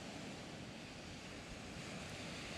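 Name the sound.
ocean waves at the beach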